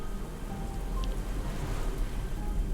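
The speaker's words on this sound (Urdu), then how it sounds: "سمندر کی لہروں کی آوازیں، بارش، کڑکتی بجلی کی آوازیں ہی سنائی دے رہی تھی" Steady rain and thunder from a stormy night at a Karachi beach hut make a soft, continuous hiss over a faint low rumble, quiet and unbroken.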